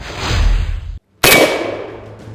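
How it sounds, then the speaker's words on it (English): AK-74 Kalashnikov rifle, a single loud sharp report with a broad crack and decaying ring, preceded by another burst of noise and a brief silent gap. "the Kalashnikov, the AK-74, you can still hear it going off in the background"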